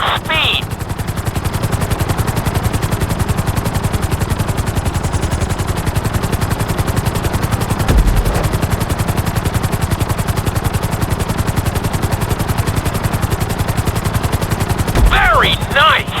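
A GTA 5 helicopter flies through a timed course, its rotor chopping in a fast, even, loud pulse that holds steady throughout, with brief whooshes near the end.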